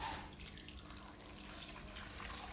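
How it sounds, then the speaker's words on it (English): Cold tap water runs into a pot being filled for chicken stock, a faint, steady splashing stream that continues briefly and alone. "We're going to fill this up with like room temp or cold water"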